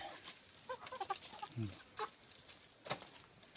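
Chickens raised at a quiet rural Thai home cluck softly and sporadically at a distance, with scattered short calls and no talking.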